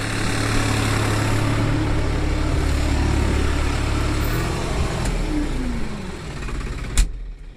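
A New Holland TT4.65 tractor engine drones steadily in a field, with a low rumble and occasional shifts in pitch as it works, ending with a brief sharp knock.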